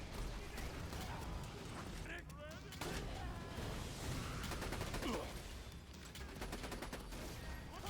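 Gunfire from Krieg's gun in a Borderlands game: rapid, continuous bursts of shots with explosive thumps, dense and loud, while a person talks over the shooting.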